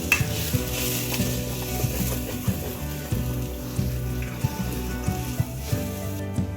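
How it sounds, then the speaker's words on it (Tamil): Hotel-style kurma sizzles in a pan as it is stirred, a steady close frying hiss broken by regular scraping strokes of the spoon, with no voices. "கிண்டி விடு ரொம்ப கலக்க விட்றாத"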